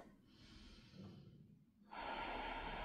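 Slow, audible breathing during a vinyasa yoga flow, a soft drawn-out breath followed by a louder, airy exhale through the nose, close and alone without talk.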